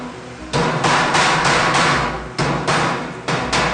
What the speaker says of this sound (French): Un bon vieux marteau.